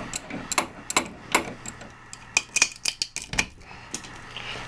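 A hard plastic part being pried and broken off a Clover CD analyzer during a teardown gives a string of sharp, close cracks and snaps in an uneven rhythm, with short pauses between bursts.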